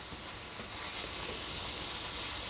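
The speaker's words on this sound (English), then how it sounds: "we got some of the meat cooking now" Seasoned taco meat frying in a pan, a steady, even hiss of sizzling grease that holds constant throughout, fairly quiet and close.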